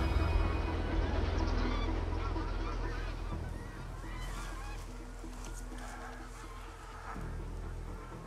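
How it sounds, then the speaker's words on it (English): A large flock of ducks sitting out on the water calls from a distance, layered honks and quacks blending into a steady wash of outdoor noise with some faint wind and rustle. "Something spooked all them ducks over there."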